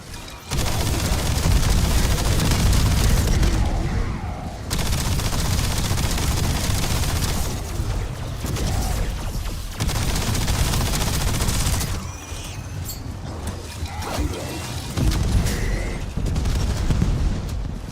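Rapid automatic fire from a new submachine gun in a first-person shooter game, loud and sustained in long bursts with brief pauses between them.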